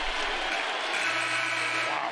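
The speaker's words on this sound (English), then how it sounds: "The crowd recognizes what's happening here." A basketball arena crowd cheers and applauds in a dense, continuous roar of clapping and voices that holds steady throughout.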